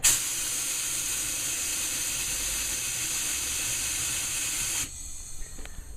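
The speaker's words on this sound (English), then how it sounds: "If you're going to use an airline and a compressor, make sure you turn it down, don't use it full." Compressed air at about 2.5 bar from an airline and compressor blows inside a 2012 iMac, giving a loud, steady hiss that runs for about five seconds and then cuts off abruptly.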